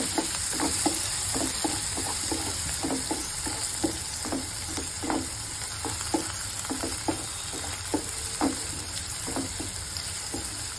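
Tomato and curry leaves fry in a pan, a steady loud sizzle with repeated scraping taps of a spoon stirring them, no voices.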